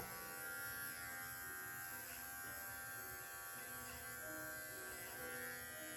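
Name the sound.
electric clipper trimming a poodle's face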